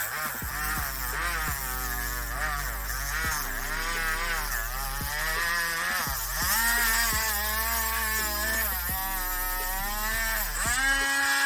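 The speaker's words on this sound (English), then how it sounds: "Just use your Dremel with the cleaning tool and go over the area on the front" A Dremel rotary tool fitted with a cleaning brush is worked over a dog's nail, giving a steady high motor whine whose pitch dips and recovers repeatedly as the brush presses on, close and continuous.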